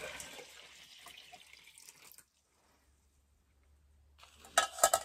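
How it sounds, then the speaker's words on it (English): Water poured out of a saucepan into a sink, a brief splashing pour that stops, followed after a quiet pause by louder clattering splashes near the end. "I'm just going to pour the water away because we can use the saucepan for something else in a moment."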